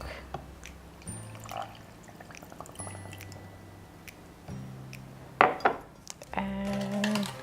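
Milk poured into a blender for a berry and honey milkshake in a home kitchen, a short liquid splash and gurgle among light clinks of dishes and utensils, fairly quiet and close.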